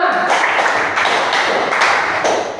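Classroom hand clapping, several claps in a steady rhythm as part of a clap-count routine, fairly close and loud against room noise.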